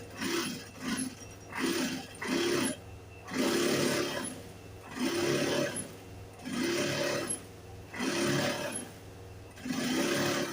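Sewing machine stitching a quarter-inch seam on a shirt, running in repeated bursts of about a second each with short pauses between, close and steady, without speech.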